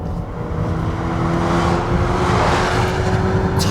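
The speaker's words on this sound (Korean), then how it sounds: "고RPM에 올라갔을 때 엔진의 이 회전 질감이 상당히 부드럽다라는 느낌을 보여주고 있는데요" A Chevrolet Impala with a 2.5 four-cylinder engine revs hard under acceleration in manual mode with traction control off, a smooth, steadily rising drone heard from inside the cabin, loud and alone.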